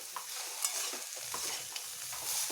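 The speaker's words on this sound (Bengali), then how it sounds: "এইভাবে নেড়ে নেবো আরও একটু ভালোভাবে ভেজে নেব" Banana stem stirred and fried in a pan, a bright steady sizzle broken by repeated spatula scrapes and light knocks against the pan, close and clear with no voices.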